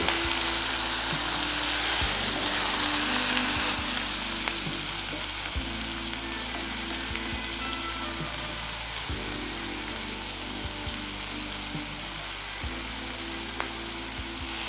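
Steady, loud sizzling of chicken and vegetables sautéing in a pan for pineapple chicken, close up, with a low rhythmic hum running underneath and occasional light stirring; no talking.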